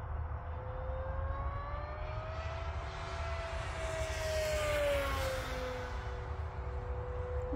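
An FMS 1100mm Voodoo RC model plane on a 6S setup flies past, its steady high-pitched motor whine rising and falling as it passes, loud and continuous outdoors.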